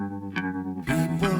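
Opening bars of a cover of a song: a sustained, chorus-washed tone holds steady, then fuller band instruments swell in about two-thirds through, with no voices.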